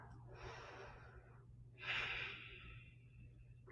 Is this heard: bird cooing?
no